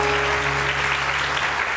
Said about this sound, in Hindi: बहुत सारी तालियां इन सब के लिए।